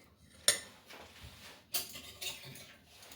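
Metal spoon clinking against a bowl while soaked dry fruits, swollen in orange juice, are scraped in for a microwave chocolate cake; two sharp clinks with soft scraping between, close and fairly quiet.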